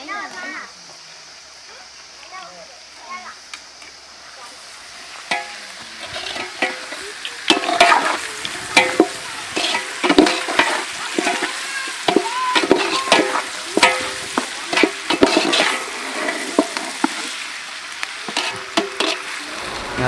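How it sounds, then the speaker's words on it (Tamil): Tomatoes and onions sautéing in a pan for a village-style fish curry, with a soft sizzle rising into busy stirring and scraping scrapes, close and irregular, while people talk over the cooking. "நல்லா தக்காளி வெங்காயம் வதங்குற அளவுக்கு வெயிட் பண்ணணும் மக்களை"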